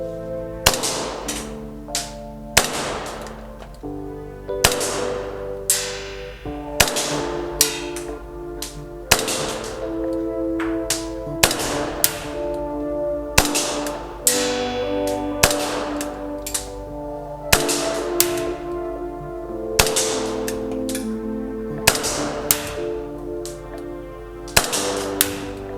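An EMG Strike Industries 2K-Alpha gas blowback airsoft pistol, a 2011 prototype fired on propane with 0.25 g BBs, gives sharp single cracks with a metallic slide clack, spaced a couple of seconds apart, loud and close.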